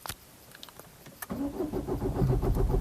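A Peugeot 207 1.6 HDi diesel with a faulty engine speed sensor cranks without catching. A couple of sharp clicks come first, then the starter churns in a steady, rapid rhythm, close and moderately loud.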